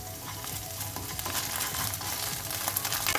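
Ginger garlic paste fries with browned onions in a pan for a brinjal and raw mango curry, giving a continuous close sizzle with soft stirring scrapes throughout and no voices.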